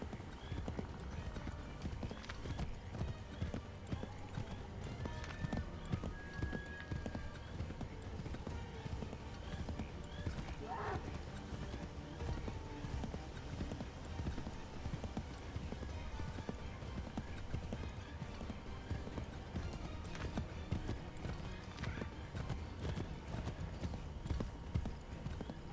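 Horse hooves pound in rapid, steady galloping rhythm throughout Assassin's Creed III, with a brief whinny and a voice talking at moments.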